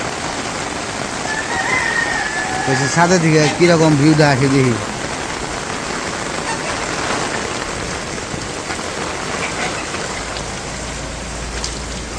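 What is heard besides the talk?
heavy rain falling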